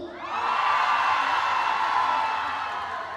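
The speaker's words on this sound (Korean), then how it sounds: "자, 우리 여기 앞에 계신 분들만 함성!" A large outdoor crowd at the Masan fish market festival concert screams and cheers in a loud, sustained roar that swells in and holds, high-pitched shouts and whoops layered throughout.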